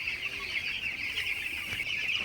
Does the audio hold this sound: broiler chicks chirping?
yes